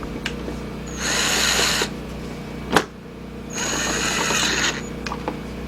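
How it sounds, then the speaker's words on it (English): Power drill tightening a headlight bolt on a 2007 Volkswagen Passat 2.0, two loud whirring bursts about a second each separated by a sharp click, close up with no talk. "we're going to start tightening up one just to keep it into place."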